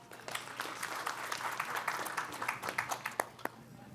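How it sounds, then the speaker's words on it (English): An audience at a founders' panel event breaks into applause, a quiet, distant patter of many hands clapping with faint voices mixed in. "Round of applause."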